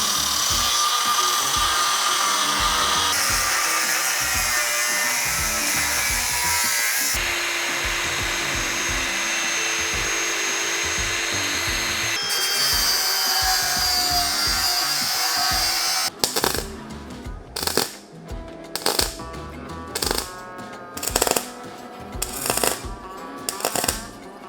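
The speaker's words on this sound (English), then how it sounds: "We'll cut that out of steel, put some holes in it" Steel is cut and then drilled for a brace on a TD42 turbo build: a long, loud continuous cutting grind shifting in pitch, followed by a series of short, repeated bursts of drilling close by.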